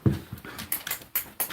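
A dog whimpering and panting indoors, with a series of short, close, breathy pants and whines coming in an uneven rhythm.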